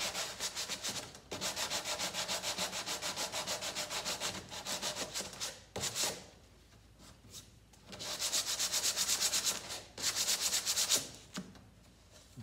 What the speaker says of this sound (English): take and just start sanding it.